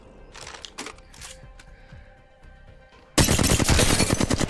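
Gunfire from weapons tried out in Apex Legends on Nintendo Switch: a few sparse, quieter shots early, then a loud burst of rapid automatic fire at the end.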